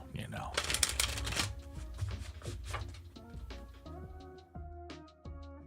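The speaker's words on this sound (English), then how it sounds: "I'm not shuffling these super crazy." A deck of oracle cards is shuffled gently by hand at close range, a quick flurry of crisp riffling and flicking that slows into softer taps, with talk over it.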